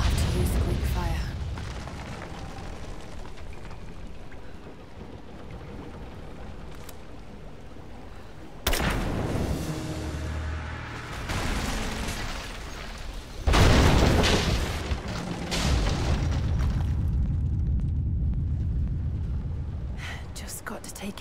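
Greek fire vessels exploding in Rise of the Tomb Raider, two heavy booming blasts with rumbling bursts several seconds apart, loud and close over a dense game soundscape.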